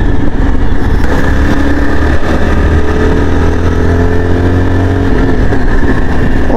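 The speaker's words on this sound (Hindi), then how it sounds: "मज़ा आ रहा है इस बाइक को एक्चुअली में उड़ाने में" A Yezdi Adventure motorcycle accelerates hard while being ridden, its engine loud and close with rising, sweeping tones over steady wind and road noise.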